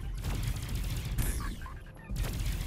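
Gunfire in an NFT shooter video game on Ronin: a dense, fast rattle of shots with a brief lull in the middle, fairly loud and mostly free of talk.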